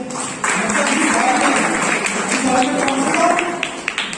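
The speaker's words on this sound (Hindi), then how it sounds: "जरा प्लीज ताली इन लोगों के लिए" Audience applause for a group of members at an E-store India business meeting, a sustained wash of clapping from many hands filling the room at steady strength for about four seconds.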